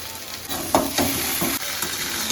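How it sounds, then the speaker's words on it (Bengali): Sukto vegetables fry with poppy seed, sugar and salt in a pan, a steady close sizzle broken by several scraping stirs of the spoon. "এবার আমরা এটাকে একটু ভালো করে কষে নেব কিছুক্ষণ।"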